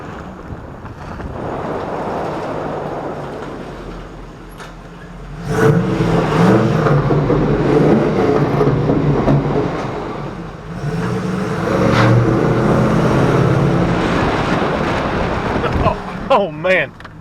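A 1994 Dodge Dakota with a Borla muffler revving in a tunnel, its low engine roar swelling loud and echoing with wind buffeting the microphone.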